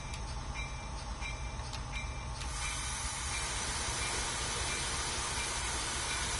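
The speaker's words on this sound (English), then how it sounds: "Another train on the left, I think it's about to depart." A train departing in the Train Sim World 3 game on the Peninsula Corridor line, giving a steady, fairly quiet mechanical rumble with hiss and a few short whistle-like tones early on and no talk.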